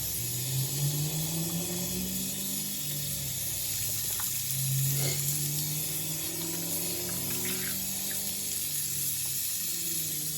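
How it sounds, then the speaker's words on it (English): A shaving sponge rinsed under running tap water at a sink, a steady continuous stream with gentle splashing changes, close and moderately loud, with no talking. "while I rinse my sponge off."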